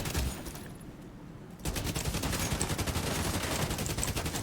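Dense, sustained automatic gunfire in The Division 2, a thin stretch of rapid shots swelling at about 1.6 seconds into a loud, continuous burst of rattling fire that carries on to the end.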